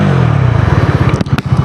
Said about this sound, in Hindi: एग्जॉस्ट साउंड सुनते हैं इसका।